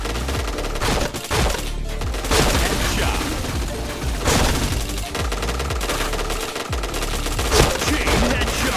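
Rapid automatic gunfire rattles almost continuously through a shooting video game match, dense bursts of shots with brief pauses, as a player talks over the action.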